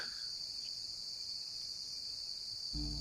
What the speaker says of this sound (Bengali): চারিদিক নিস্তব্ধ, শুধু শোনা যায় ঝিঁঝি পোকার ডাক।